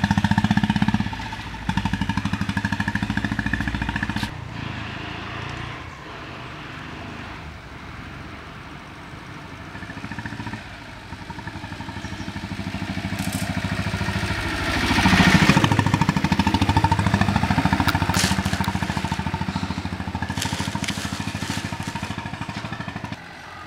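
A Royal Enfield Bullet motorcycle engine idles close by with a steady, rough thump. It rises briefly in a loud rev partway through and keeps running under the low hum toward the end.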